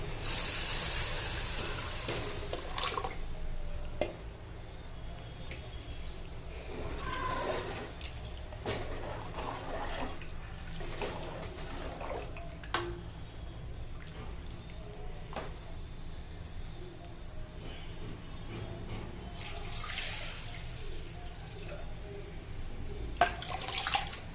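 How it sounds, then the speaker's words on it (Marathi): Heated water poured into fried masala in a cooking pot for a Maharashtrian curry, a soft continuous splashing and gurgle with faint clinks, fairly quiet throughout. "मसाला चांगला परतला आहे आपण त्यामध्ये गरम केलेलं पाणी ओतू"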